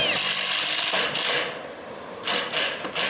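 A power drill drives two screws into a tile roof valley, giving short bursts of whirring and grinding close by, separated by brief pauses.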